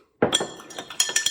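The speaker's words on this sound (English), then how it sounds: "Drop a cherry in your glass." A Luxardo cherry drops into a cocktail glass for an old-fashioned, giving a sharp, close clink followed by a few lighter glassy taps and rattles.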